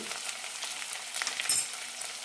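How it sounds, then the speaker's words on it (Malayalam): Onion, tomato, green chilli and ginger-garlic paste sautéing in a pan for a cauliflower masala curry, giving a steady close sizzle with soft stirring scrapes and a brief louder clink midway, no voices. "നന്നായി വഴറ്റാം"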